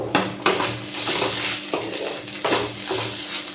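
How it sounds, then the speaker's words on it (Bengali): Lightly fried sago pearls are stirred with a spoonful of sugar in a pan, with repeated scraping strokes of a spoon against the metal over a soft sizzle. "চিনিটা দিয়ে আবারও ভালো করে নেড়ে নেব।"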